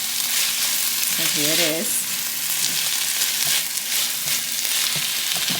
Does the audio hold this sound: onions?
yes